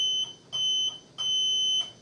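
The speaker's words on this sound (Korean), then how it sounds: "아래 전원 스위치를 눌러서 켜주신 상태에서 위에 체크 스위치를 눌러서 삐삐 소리가 나면 정상 작동되는 것으로 확인됩니다." A Heimkeeper overheat alarm set sounds during a check-switch test: three clear, high electronic beeps of uneven length, the last one longest, close and alone with no talk.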